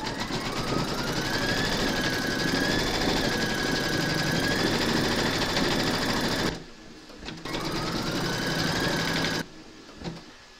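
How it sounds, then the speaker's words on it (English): An embroidery machine stitches an appliqué outline on a scarecrow design held in the hoop, giving a loud, steady mechanical whir with a faint whine. It pauses briefly twice before resuming. "Pop your hoop into your machine and stitch round number three to secure it"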